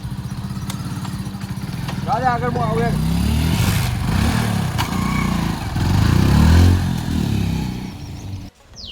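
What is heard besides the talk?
motorcycle passing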